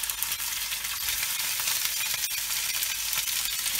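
Beef paupiettes fry in very hot oil, giving a dense, even sizzle that holds steady and close throughout, with no voices.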